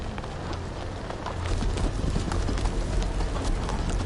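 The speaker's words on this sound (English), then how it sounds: "And that's my horse, isn't it?" A horse's hooves clip-clop steadily in the Game of Thrones video game, a dense, fast patter of hoofbeats that is fairly loud and continuous throughout.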